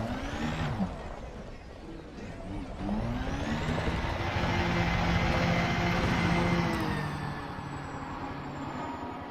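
Spaceship lifting off in the Elite Dangerous space game, a loud, broad engine roar that swells and builds steadily, then eases slightly near the end.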